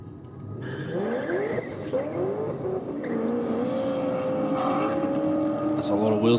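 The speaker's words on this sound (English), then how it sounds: "That's a lot of wheel spin for the VF Commodore there in the rocket lane" A Holden VF Commodore spins its wheels off the line at a drag race, a sustained loud engine roar with rising squealing tones throughout, under continuous trackside commentary.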